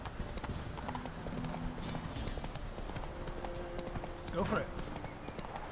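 Hooves of Roach, the horse in The Witcher 3, clopping under game ambience and music, with a louder burst of hoofbeats and a whinny-like cry near the end while people talk over it.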